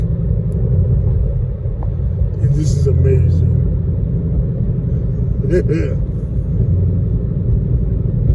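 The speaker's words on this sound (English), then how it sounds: "We are just taking it extremely easy for the moment because this is a lot of car" Shelby GT500 driven gently on residential streets, its engine giving a steady low rumble from inside the cabin, with people talking over it throughout.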